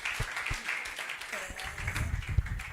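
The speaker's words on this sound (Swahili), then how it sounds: "Tumpigie makofi mazuri sana." A church congregation at a breakthrough service breaks into applause, a dense patter of clapping hands filling the room while a voice continues over it.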